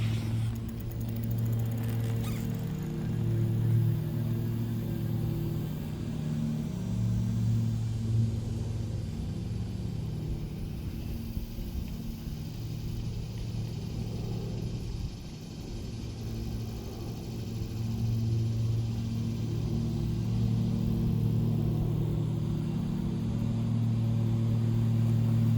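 An electric bicycle motor runs under throttle with a steady, low mechanical hum and faint whine, holding fairly constant for the whole stretch with a slight dip midway and no talking.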